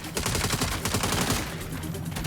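Rapid bursts of automatic gunfire in the Saints Row (2022) video game, loud and dense with a steady rattling rhythm across the whole stretch, no talking over it.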